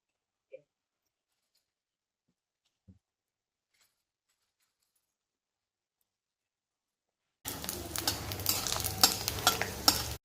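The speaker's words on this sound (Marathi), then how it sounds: "आपण आता तळून बघूया कसे होतात ते. मस्त एकदम कडकडीत सुकलेत, तेल तापलेले आहे." Sago and potato chakli deep-frying in hot oil, a dense crackling sizzle that starts abruptly after a long near-silence broken by two faint ticks, then continues loud and close without talk.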